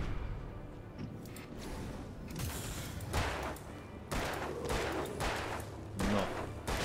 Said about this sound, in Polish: Szkoda, że tyle strzałów to wymagało.